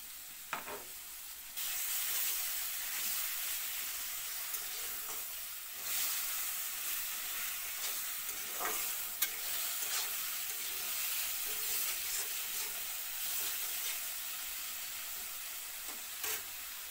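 Spices with tomato paste, turmeric and salt fry in a pan for a small fish curry, giving a steady, fairly loud sizzle and hiss with occasional stirring scrapes throughout.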